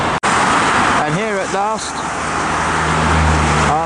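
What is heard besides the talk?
motorway traffic on the M11 on a rainy afternoon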